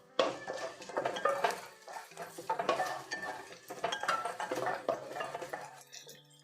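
Onions frying in oil in a pan for an Andhra curry leaf chicken curry, with steady stirring, scraping and clinking of a utensil against the pan over a soft sizzle, close and moderately loud, ending in a quieter tail.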